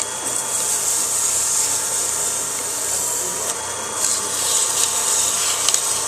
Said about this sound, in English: we might want to sand just a little bit there where we hit that parting tool